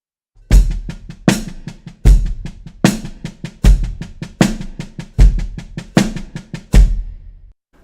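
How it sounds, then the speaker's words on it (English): A basic 4/4 drum groove with kick and snare alternating on quarter notes and a hi-hat on the pulse, played steadily for several bars, punchy and close with no talking. "In a really basic 4/4 groove, there are going to be alternating quarter notes between a kick drum and a snare drum."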